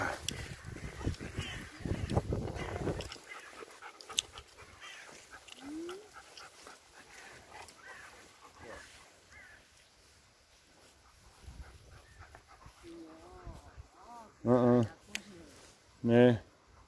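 A dog pants and whimpers in a room at home, with soft steady breathing and faint whines scattered over several seconds, while a person speaks near the end.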